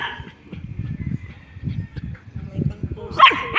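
A small pet dog barks and yips in short bursts indoors, close and fairly loud, with a whimpering tone and a sharp higher cry near the end.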